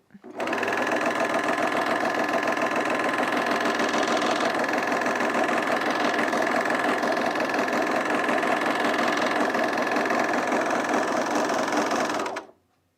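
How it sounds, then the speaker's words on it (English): A serger sewing machine runs steadily for about twelve seconds, a loud, continuous mechanical whir with a fast rhythmic stitching chatter, starting and stopping abruptly with no talk over it. "Can you see my serger?"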